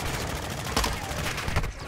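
Continuous automatic gunfire in Modern Warfare III multiplayer, dense and sustained across the whole stretch with a couple of louder shots, no talking.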